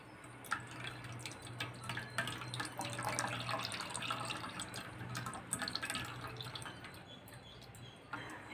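Ground green juice strained through a filter at home, a steady trickling and dripping of liquid with soft splashes, fairly close and continuous with no talk.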